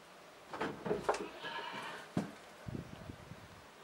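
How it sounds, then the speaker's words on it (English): A goat bleats close by in a few short wavering calls, followed by soft shuffling and thumps. "Why are you not with the other goats?"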